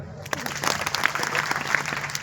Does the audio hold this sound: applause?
yes